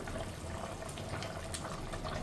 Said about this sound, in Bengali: এই যে দেখুন মাছের ঝোলটা ফুটে গেছে